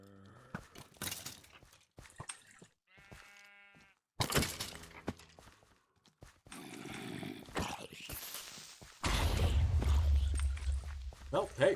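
Sheep bleat in a video game, a short harmonic bleat standing out among scattered game sounds, footsteps and bursts of noise, with a player talking intermittently.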